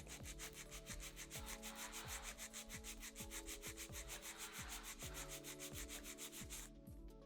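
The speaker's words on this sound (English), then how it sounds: "My first step in filing is straight out from the nail groove on the left." An extra long square acrylic nail filed with a hand nail file, giving a steady, close rhythm of quick scratchy rubbing strokes that repeat evenly without a break and with no talking.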